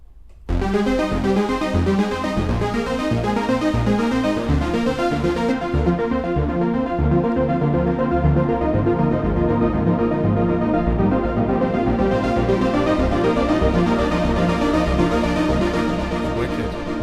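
A synthesizer plays a bright, rapid arpeggiated pattern that repeats steadily and loudly, with the upper tones thinning out midway before returning.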